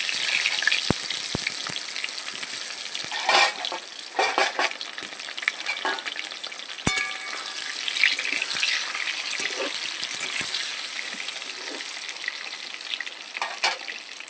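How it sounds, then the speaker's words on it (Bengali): Hot oil in a wok crackles steadily around boiled potatoes being fried for Kashmiri aloo dum. Close, continuous sizzling is broken by occasional sharp spatters and utensil clinks. "সেদ্ধ করা আলুগুলো এখন আমি ভেজে নেব"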